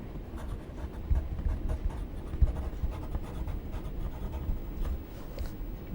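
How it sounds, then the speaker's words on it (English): Pen or pencil scratching steadily across paper while an engineering drawing exam solution is worked out, a continuous close rubbing texture with slight stroke accents and no talking. "First of all, we will write down about the given data."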